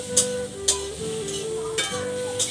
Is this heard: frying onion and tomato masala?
yes